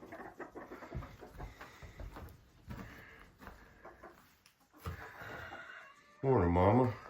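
Chickens at a hen house cluck softly and intermittently under a person's speech, ending with a loud rooster crow close by.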